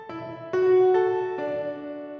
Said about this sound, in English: now that sound is the very basic piano that we're going to be adopting for this.